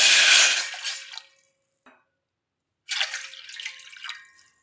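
Water from a glass poured into a pot on a lit gas stove, two separate pours: a loud splashing rush that tapers off, a brief drip, then a second shorter pour after a pause.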